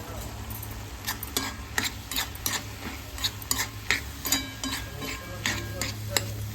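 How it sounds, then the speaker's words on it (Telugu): A spoon stirs rice flour into a bottle gourd milk curry in a pot, with repeated scraping clicks of utensil on metal over a soft simmering sizzle and a low steady hum. "ఇది కూడా ఇలా వేసేసుకొని పైన కలిపేసుకోవడం"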